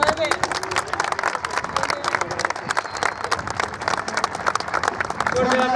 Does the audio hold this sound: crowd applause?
yes